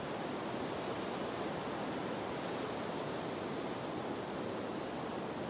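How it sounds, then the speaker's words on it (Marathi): Sea waves wash onto the beach at Guhagar on the Konkan coast, a steady, even surf roar heard from the water's edge, broadband and continuous without distinct breaks. "समुद्राच्या लाटा, कलरफुल आभाळ"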